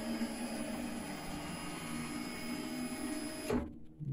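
An Epson L1800-based UV printer starting a print job gives a steady mechanical whir and hum that runs throughout before stopping abruptly near the end.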